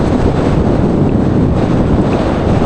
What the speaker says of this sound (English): The wind is growing.